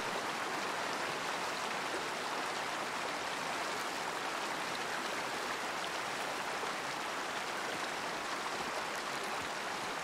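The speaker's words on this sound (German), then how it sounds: "Müssen wir mal durchs Wasser durch." Water swishes and splashes steadily in a hunting game as a character wades through a stream, a continuous broadband rush at moderate level with no talking.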